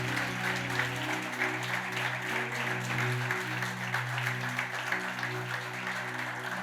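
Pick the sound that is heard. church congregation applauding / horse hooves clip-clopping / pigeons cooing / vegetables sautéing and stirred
church congregation applauding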